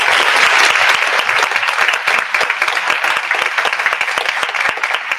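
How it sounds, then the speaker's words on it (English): Loud, sustained applause from an evening talk audience, dense clapping filling the whole stretch without letup. "We have one more round of applause for Dave."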